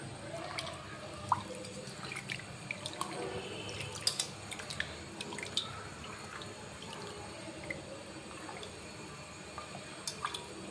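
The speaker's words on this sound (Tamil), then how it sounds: "இன்னும் ஒரு 5 minutes கழுவிக்கலாம்." Mutton is washed in water mixed with turmeric powder and salt: quiet, steady dripping and small splashes with occasional sharper water clicks, fairly faint, with no voices.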